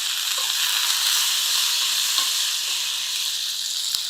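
Curry leaves sizzle and crackle in hot oil in a pan for brinjal masala curry, a steady, loud frying hiss with occasional pops and no talk.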